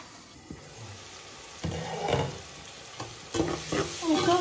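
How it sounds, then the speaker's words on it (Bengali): Onions frying in oil in a pan over a low flame, a soft sizzle that swells as they are stirred, with scraping spatula strokes and crackling bursts. "পেঁয়াজটা খুব সুন্দর করে তেলের লগে ভাজা হয়ে গেছে"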